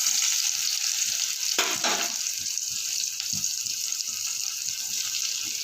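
Steady, hissing sizzle of onions frying in a pan for semolina upma, with occasional soft clicks and a brief clatter partway through.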